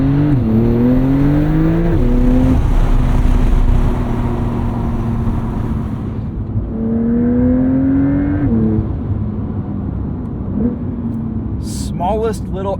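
A 2025 Porsche 911 Carrera S (992.2) with a twin-turbo engine drives with its windows down. The engine note climbs and falls through several gear pulls, then settles into a loud, steady cruising drone with road and wind noise.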